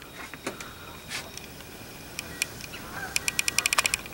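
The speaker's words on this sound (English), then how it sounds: "See the geese?" Geese honk outdoors, scattered calls at first, then a quick burst of repeated honks near the end, moderately close but fairly faint.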